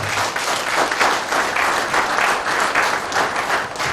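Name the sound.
audience applause at a conference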